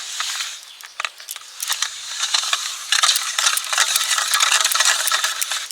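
Semolina being stirred into milk for an eggless sponge cake batter: a steady run of soft, close scraping and swishing strokes in a bowl, sounding alone without any talk.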